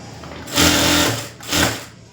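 A sewing machine runs in two close, loud bursts, a long stretch and then a shorter one, as it stitches the lining onto a blouse.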